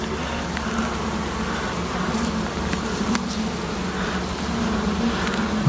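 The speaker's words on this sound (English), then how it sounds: "Looking, we got a good bit of bees." Honey bees buzzing from an open hive during a split inspection, a steady close drone with individual bees flitting past, continuous throughout with no talking.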